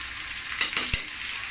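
Ginger, garlic, cumin and coconut paste frying in a pan, a brief soft sizzle hiss broken by two quick taps of a utensil against the pan.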